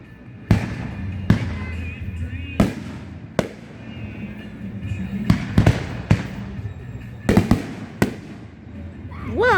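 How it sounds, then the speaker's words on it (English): Fireworks burst in a string of sharp, loud bangs at irregular intervals, some in quick doubles and triples, with people exclaiming in between. "Wow, multiple explosions."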